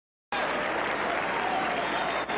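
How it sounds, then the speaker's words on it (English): A tennis crowd at the Forest Hills stadium breaks into sustained applause that starts abruptly after a moment of silence and holds as a loud, even wash of clapping. "Crowd is applauding as Vidas Gerulaitis comes out to assume his position here in the second set"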